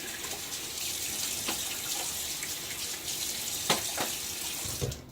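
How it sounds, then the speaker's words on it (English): Cold water runs steadily from a bathroom sink tap with a continuous hiss, broken by a few sharp splashes as a face is rinsed in the basin, the last splashes near the end. "Now I'm going to give my face a little splash."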